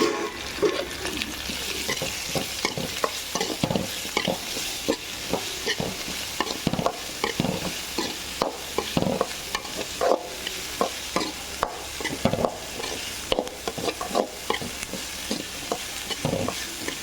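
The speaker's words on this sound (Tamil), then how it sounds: "அதையும் இதில் போட்டு வதக்கிக்கலாம்." Cauliflower that was blanched in hot water is sautéed in a pan, tossed in tomato sauce: a steady sizzle under a brisk run of repeated stirring and scraping clicks through most of the stretch, with no talking.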